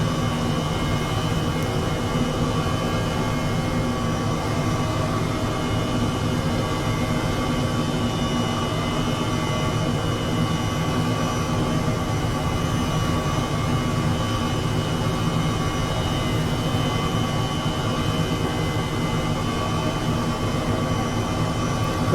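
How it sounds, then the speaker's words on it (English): An H135 helicopter hovers in Microsoft Flight Simulator 2020, a constant loud turbine whine and rotor drone holding steady throughout with no talk. "Trying to taxi hover in a straight line in this helicopter is a real issue."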